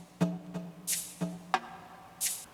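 An original R&B percussion loop from a Cymatics sample pack plays alone: sharp, evenly spaced drum hits with bright shaker bursts sweeping in between, about two and a half seconds long.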